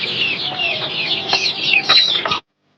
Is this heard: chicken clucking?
yes